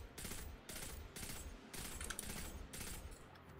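Bursts of pistol fire in the video game Destiny 2 come in repeated clusters of rapid shots with short gaps between them, loud and close, with no talking.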